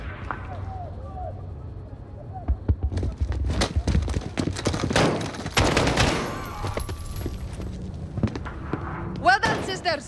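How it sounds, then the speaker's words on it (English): Bursts of gunfire in the Call of Duty Modern Warfare video game, rapid shots and impacts layered over game sound effects and a tense score, with characters speaking in between. "Point and shoot until they fall"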